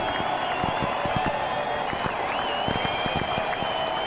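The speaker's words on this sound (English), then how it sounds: "We'll give them some cheer and fireworks" Crowd cheering and applause fill the Rogers Centre in a baseball video game after a World Series win, a steady dense roar with scattered claps throughout and no distinct firework bursts standing out.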